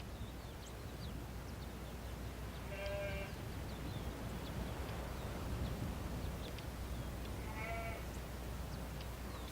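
Sheep on an Andean ranch bordering a park give two distinct bleats several seconds apart, heard at a moderate distance over steady wind and outdoor hiss.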